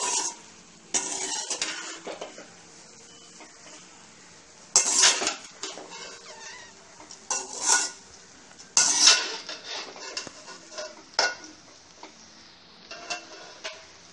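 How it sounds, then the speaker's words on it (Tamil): A spoon or spatula stirs Tamil-style fried rice gently in a metal pan, giving repeated scraping and clinking in uneven bursts with soft sizzling between, close and fairly loud, with no talking. "ரைஸ் வந்து உடஞ்சிடாம நல்லா சாஃப்டா கிண்டணும்."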